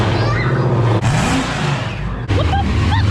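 A Jeep Trackhawk with its muffler deleted roars loudly up close, a deep, heavy engine note with revving that dips and surges throughout.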